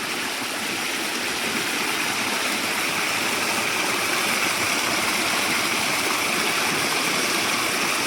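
A river in a Konkan village, swollen after the first monsoon rain, rushes steadily with a broad, constant hiss of flowing water, close and fairly loud, unbroken and with no voices.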